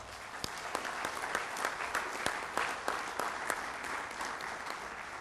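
Audience at the 2009 Global Peace Convention opening plenary breaking into sustained applause, a dense wash of many hands clapping steadily with a few sharper individual claps standing out, no voices over it.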